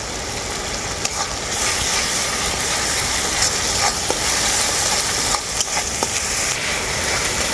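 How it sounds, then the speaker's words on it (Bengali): Garlic and ginger paste sizzles steadily in a pan with onions, a dense continuous frying hiss with occasional soft scrapes and clicks of stirring, close and without talk. "আদা রসুন খুব ভালো করে ভাজা হয়ে গেছে"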